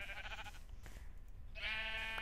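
Sheep bleats from the Minecraft video game, two harmonic calls a moment apart, the second louder and held longer, heard alone without talk over a low background hum.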